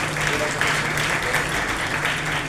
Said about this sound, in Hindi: ये जो 2-4 लोगों ने जो ताली बजाई है